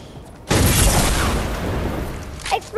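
A loud video game explosion bursts suddenly and rumbles on as a long, heavy roar that slowly fades, with a few faint sharp pops at the end.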